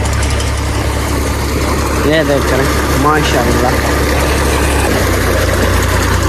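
A tractor engine drives a newly installed tubewell, idling in a loud, steady low rumble throughout while people talk close by.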